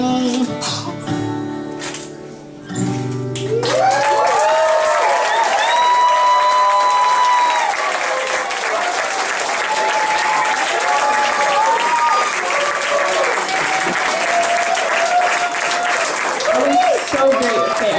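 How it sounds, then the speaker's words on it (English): A coffeehouse audience claps after a live performance: a brief stretch of music and talk at the start gives way to loud, sustained applause with cheering and whoops over it, continuing to the end. "I think she needs another round of applause because that was"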